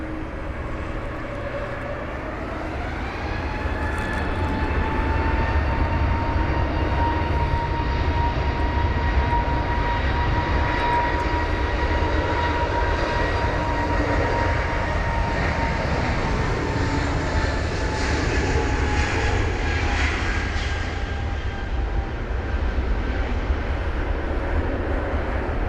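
An airliner departs London Heathrow in wet, spray-filled conditions, its engines rising into a loud, sustained roar with a steady whining tone that holds close and strong for the whole stretch.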